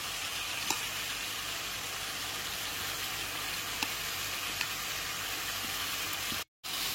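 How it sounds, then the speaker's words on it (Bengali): Chicken mince frying in a pan as washed rice and lentils go in for khichuri, giving a steady, close hiss of sizzling with a few faint clinks. "এরপর এর মধ্যে ধুয়ে রাখা চাল আর ডালটাকে দিয়ে দিচ্ছি।"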